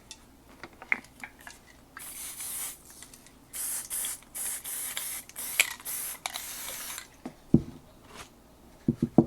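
Liquitex acrylic spray paint hissing through a Crafter's Workshop stencil template in several short bursts of about a second each, close and fairly loud, with a few small clicks and taps between sprays.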